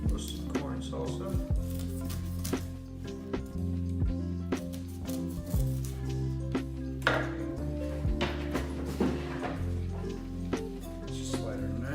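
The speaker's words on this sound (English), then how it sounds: "corn right off the cob. Just sliding our knife down." A knife slides down a roasted corn cob, shearing off kernels for corn salsa, giving repeated soft scraping and crunching strokes close by over a kitchen background with some clatter.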